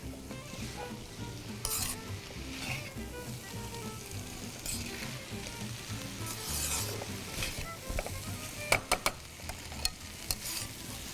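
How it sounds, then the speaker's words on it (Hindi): Vegetable noodles being stir-fried in a pan over a soft continuous sizzle, with spatula scrapes and a few sharp clacks near the end, close and fairly quiet, no talking. "अच्छा सा स्टर करेंगे, हीट थ्रू करेंगे, बस।"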